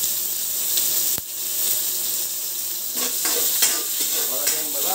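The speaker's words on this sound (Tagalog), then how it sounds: "maglagay po tayo ng kunting mantika sa kawali at igisa muna natin ito mga sangkap katulad nitong luya" Ginger sautéing in a little oil in a pan, a steady close sizzle with a sharp clack near the start and a few brief spoken words over the frying toward the end.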